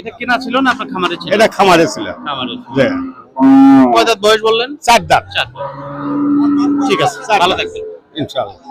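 A Jersey-Friesian cross cow at a cattle market gives one short, loud, close moo midway through, surrounded by nearby people chatting and bargaining.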